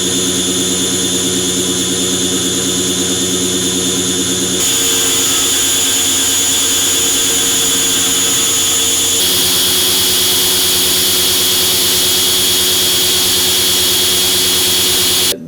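A CNC router machines a part under a mist coolant blowgun, making a loud, continuous, high whining drone that shifts in pitch a couple of times.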